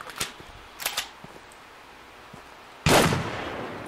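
Gunfire in the survival game Raised In Oblivion: two quick distant shots early, then a loud, sharp blast near the end that rings out, with no talk over it.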